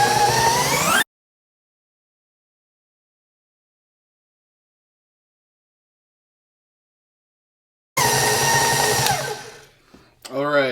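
An electric mixer running at medium speed through chocolate cake batter gives a loud steady whirring drone that stops abruptly, then returns after a long silence and spins down at the end.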